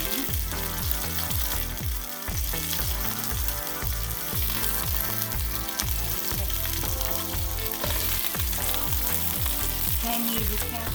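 Onions and other sukiyaki ingredients sizzle loudly and continuously in a pan, a dense close frying hiss with rhythmic stirring scrapes and no voices.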